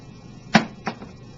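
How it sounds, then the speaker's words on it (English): A domino strikes a floor during a pendulum timing setup, giving one sharp close clack followed by a softer second tap about a third of a second later over a faint background hum. "the domino makes a sound hitting the floor"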